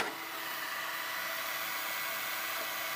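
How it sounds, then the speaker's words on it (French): Two small fans inside a SUNLU FilaDryer S1 filament dryer, drying PLA, produce a steady, even airy whir with a soft broadband hiss and no change in level, heard close and alone. "Tu vas entendre 2 petits ventilateurs."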